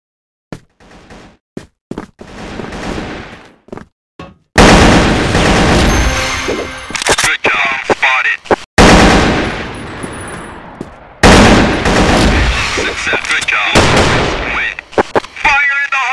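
Rapid gunfire bursts and shots ring out loud and close during a competitive 4v4 first-person shooter match, with dense stretches of firing broken by short pauses and a few isolated single shots early on.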